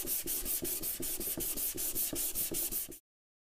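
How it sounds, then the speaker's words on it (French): Steady rhythmic hand sanding of a first coat of body filler on a café racer motorcycle part, about a dozen even back-and-forth strokes, close and alone, stopping abruptly. "La première couche d'enduit est poncée."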